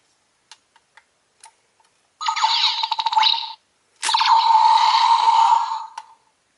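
Power Rangers Dino Super Charge Dino Charger power pack toy gives a few soft clicks, then two bursts of bright electronic chirping and warbling tones, each lasting a second or two, close and fairly loud.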